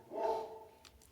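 A single dog bark indoors, faint and muffled as if from another room, followed by a couple of soft clicks.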